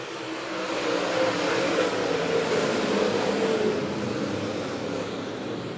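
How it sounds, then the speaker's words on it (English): Dirt-track race cars at Monett Motor Speedway accelerate hard off turn four in a feature race, a loud sustained roar of several engines blending together, steady and dense throughout without any talk. "Jesse Stovall gets them started off of turn number 4"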